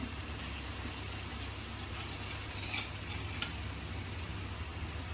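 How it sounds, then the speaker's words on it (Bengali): Pieces of rohu fish frying in hot oil in a pan, a steady soft sizzle throughout with a couple of faint utensil clinks. "এই রান্নাটার জন্য কিন্তু মাছকে খুব কড়া করে একদম লালচে করে ভাজার কোনো দরকার নেই"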